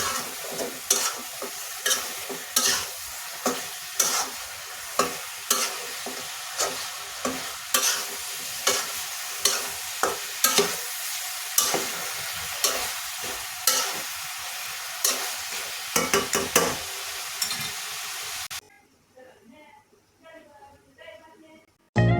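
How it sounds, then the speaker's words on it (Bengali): Beef being stir-fried in a pan for nihari, a loud continuous sizzle punctuated by rhythmic spatula scrapes roughly every second, ending abruptly into a brief quieter stretch with faint sounds. "আমি ভালো করে মাংসটা কষিয়ে নিব"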